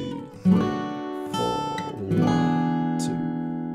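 Acoustic guitar plays an intro lick, a few picked notes then strummed chords from the fourth string onward, ringing clearly with no voice over it.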